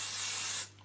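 505 spray adhesive hisses from an aerosol can in one steady, close burst, bright and continuous for over half a second before cutting off abruptly.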